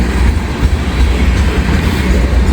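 Freight train, a mixed manifest carrying grain hoppers, rolls steadily past at close range, a loud continuous rumble of wheels and cars with no voices.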